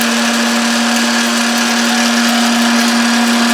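A kitchen mixer grinder runs steadily while grinding a herbal mixture, a loud continuous motor whine with a strong steady hum, no talking.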